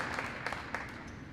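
Audience applause at an Illinois school board association meeting in a high school, steady moderate clapping from a room of people throughout, with a few sharper individual claps standing out.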